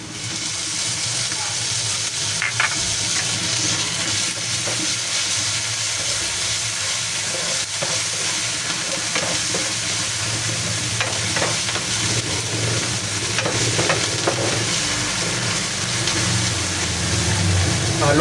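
Shallots and shrimp paste frying in a pan, sizzling steadily throughout with scraping stirring sounds, for a Sambal Embe dish; a voice talks intermittently over the cooking.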